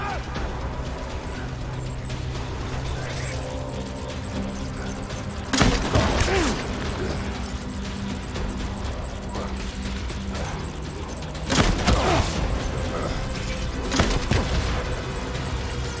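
Gunfire in the video game Death Stranding, bursts of sharp shots erupting around six and twelve seconds and briefly near fourteen, over a constant background rumble with shouted voices.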